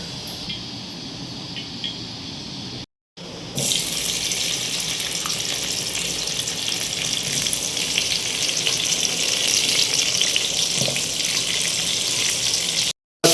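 Prawns fry in hot oil in a cooking pan with a loud, steady sizzle and crackle; a short gap breaks it early, then the frying resumes and holds strongly to the end.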